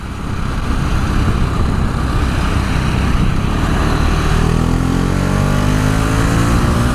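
A KTM Duke 690 R motorcycle engine roars loudly on a test ride, a steady close drone with rising revs and a climbing pitch as the bike accelerates near the end.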